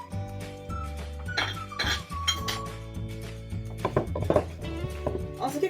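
Pepper, cumin powder and other spices pounded in a mortar, with repeated clinking, knocking strikes at an irregular pace mixed with scraping sounds, close and fairly loud.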